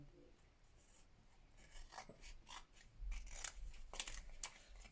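Scissors trimming material for a gilded photo frame, a few quick close snips and rustles that grow louder in the second half, with no speech over them.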